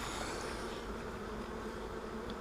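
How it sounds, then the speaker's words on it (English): A dense swarm of bees buzzing around an open beehive, a continuous, even drone close to the microphone and fairly quiet, with no talk. "I think I smashed a bunch of bees just then"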